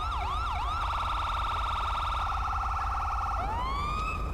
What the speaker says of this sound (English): it'll turn your sirens on